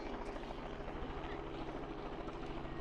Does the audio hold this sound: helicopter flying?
yes